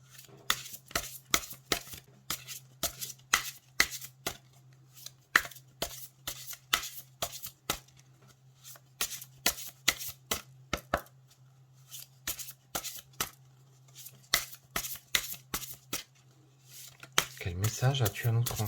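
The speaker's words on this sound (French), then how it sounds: "Alors, je vais battre les cartes." Oracle cards are shuffled by hand in a long run of quick, crisp riffling and slapping bursts with brief pauses, close by against a low steady hum, and a voice comes in at the end.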